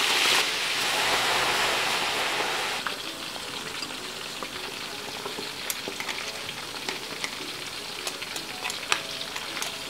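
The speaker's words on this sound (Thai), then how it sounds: "นำตัวหมูส้มของเรานะครับลงไปทอดเลย" Thai fermented pork, moo som, fries in oil with a loud, spattering hiss that starts dense and then settles into a busy crackle of quick pops and spits, close and continuous, no voices.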